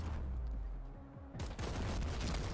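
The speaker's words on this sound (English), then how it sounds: "So we'll shoot that barrel." Gunfire hits an explosive barrel in the turn-based game Showgunners. Heavy booming shots and blasts rumble throughout, with a sharp new burst partway through, loud and close.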